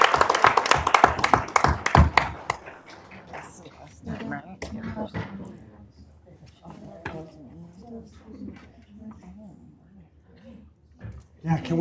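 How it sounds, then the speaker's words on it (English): Audience applause at a school board meeting honoring the state champion choir, a dense burst of clapping for about two seconds that quickly thins to scattered claps under murmuring talk and shuffling. "So we applaud them as our choir state champions."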